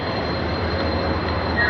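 A train to Digha at an Indian railway station gives a steady, loud rumble with a faint high squeal toward the end, heard alone for a brief moment.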